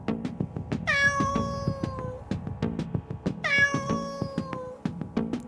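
A cartoon cat named Gus in a horror animation lets out two long, plaintive meows a few seconds apart, over a faint background bed of music and rustling.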